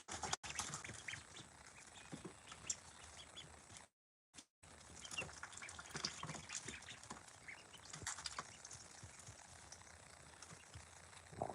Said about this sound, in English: So we have 7 ducklings.